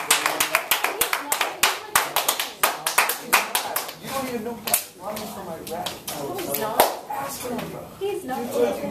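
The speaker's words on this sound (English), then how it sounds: "I want you guys to go ahead and give a round of applause" A round of applause from a small group: rhythmic, fairly close hand claps that settle into a steady beat, then become looser and more scattered, with people talking and cheering over the clapping.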